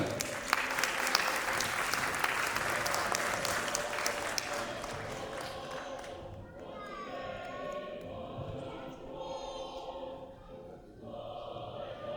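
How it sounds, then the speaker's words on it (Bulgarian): An audience applauds at a children's contest award ceremony as a kindergarten winner is announced, with dense clapping for about six seconds that then thins to scattered faint claps and room noise. "Аплодисменти за Йоан."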